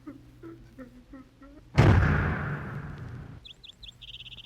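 Birds twitter with short, repeated chirps in a sunny Ottawa park, cut off midway by a loud roaring burst that fades before the high chirping resumes.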